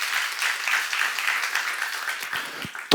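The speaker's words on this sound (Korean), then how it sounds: "박수 하세요" Church congregation claps in a steady round of applause, moderately loud and slightly distant, fading toward the end before a brief thump.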